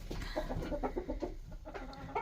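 Laying hens cluck softly in short, repeated bursts nearby, a quiet backyard flock chattering with no talk over them.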